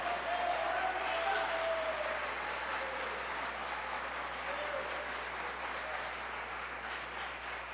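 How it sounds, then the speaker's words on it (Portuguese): A church congregation applauding during a sermon, a steady, fairly quiet wash of clapping that continues evenly throughout with a low hum underneath. "Pode aplaudir ao Senhor."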